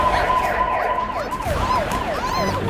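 A police siren wails in repeating rising and falling sweeps, loud and fairly close, with a steady background hum beneath it and no talking.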